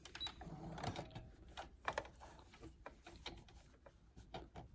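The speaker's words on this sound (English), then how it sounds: "into the machine and I'm going to sew right up that seam, closing off." A sewing machine stitches up the seam of a slippery-fabric sleeve on an angel costume, a soft run of clattery mechanical taps and whirs at close range with no talking.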